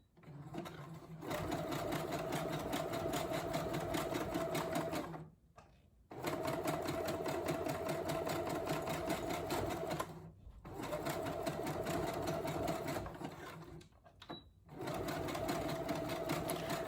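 A sewing machine back stitching and forward stitching along the ends of a wig weft track, a close, steady mechanical whir in three long runs separated by brief pauses.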